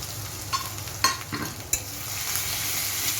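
A spice paste of ground cumin, green chilli and ginger with onion frying in a pan for fish curry, a steady soft sizzle broken by a few stirring scrapes and knocks, close by, with no talk.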